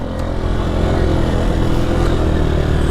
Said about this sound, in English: So this is my 2005 CRF230F.